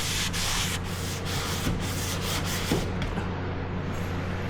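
Steady rhythmic scratching of sandpaper rubbed back and forth over primer on a car body, close up and continuous.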